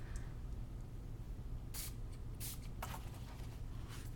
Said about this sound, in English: I just have a spray bottle handy and just kind of make it move around